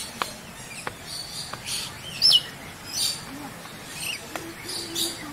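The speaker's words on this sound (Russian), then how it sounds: "Попугай ручной." A tame parrot at Loro Parque, Tenerife, gives a few short, sharp chirps and squeaks, spaced irregularly, over a low background hiss with faint ticking sounds.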